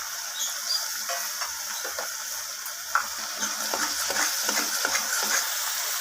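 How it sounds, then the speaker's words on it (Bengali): Fish curry spices with garlic paste sauté in a pan, a continuous soft frying hiss with frequent scraping stirs and light clicks of the spoon, close and without talk. "এরপর সব কিছু আমি ভালোভাবে নাড়িয়ে চাড়িয়ে কষিয়ে নেব"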